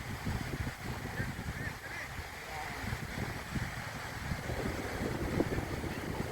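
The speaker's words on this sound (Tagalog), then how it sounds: "dahil lakas ng hangin" Steady, strong seaside wind in Fahaheel, Kuwait, rushing and buffeting the microphone throughout, a broad roaring noise with faint voices underneath.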